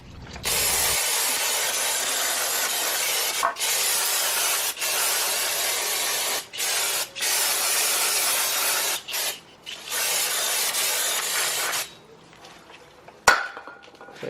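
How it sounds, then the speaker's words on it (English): Brake cleaner sprays in long, loud hissing bursts over the rear brake parts of a 2011-2013 Hyundai Sonata Hybrid, with short pauses between bursts, then it stops and a faint metallic clink follows. "Clean up some of that brake dust. It's just brake cleaner."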